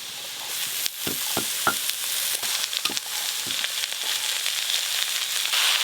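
Chopped cabbage frying in a pan with lightly fried potatoes, a constant close sizzle broken by scraping stirs and a few sharp knocks of the utensil.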